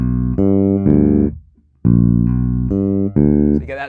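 Bass guitar plays one beat of a country bass line: a handful of deep, sustained plucked notes with a slide and open strings, a short gap partway, loud and close with no talking.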